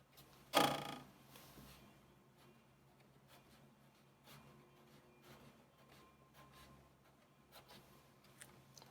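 Pencil drawing centre chain lines on a technical drawing of orthographic views, a sharp contact at the start followed by faint intermittent strokes and light scratches, close and quiet with no talk.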